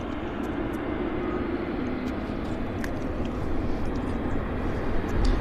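A heavy jet airliner, Air Canada Flight 4 from Narita, on approach to Vancouver airport: a steady broadband engine roar at moderate distance that swells slightly toward the end, with no talk over it.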